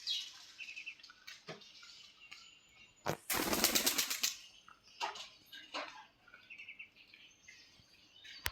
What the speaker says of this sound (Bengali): কবুতরগুলো সবগুলো উড়ে গিয়েছে।